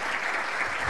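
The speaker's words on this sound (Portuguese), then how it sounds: "aplausos, por favor." Audience applause at a national energy-efficiency olympiad award ceremony, a dense continuous wash of many hands clapping, steady and fairly loud for about a second with no voices over it.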